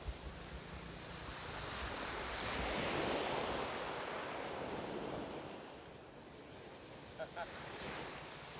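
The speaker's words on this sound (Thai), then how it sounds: "ทะเลนะหาดเจ้าสำราญนะครับ" Sea waves washing onto Hat Chao Samran beach in Phetchaburi, Thailand, a steady broad surf wash with wind noise on the microphone, swelling mid-clip and easing toward the end, with a couple of faint knocks near the close.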